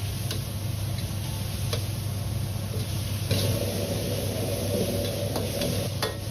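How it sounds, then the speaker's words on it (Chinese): Shredded celtuce stir-fried in red chili oil with garlic and chili bean paste in a restaurant wok, a steady close sizzle with occasional clicks and scrapes of tossing. "炒出红油后，倒入切好的莴笋丝翻炒"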